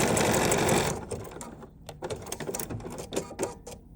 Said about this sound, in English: the default zigzag stitch on my sewing machine